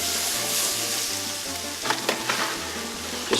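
Vegetables sautéing in bacon grease as a roux is started, a steady close sizzle with a low rhythmic hum beneath and a few scraping stirs toward the end.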